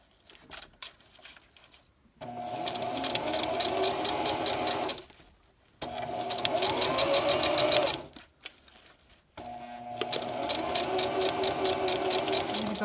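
A sewing machine stitches yarn and ribbon together for a Maori piupiu, running in three sustained bursts of steady whirring with short quiet pauses between them.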